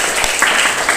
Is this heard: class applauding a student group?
yes